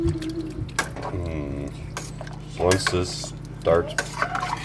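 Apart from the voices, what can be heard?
stirring tomato soup in a pot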